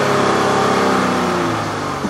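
A 2015 Chrysler 300 engine revs hard against its 4,000 rpm limiter, holding a loud, steady high-rpm drone close by before easing off slightly near the end.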